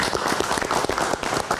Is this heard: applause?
yes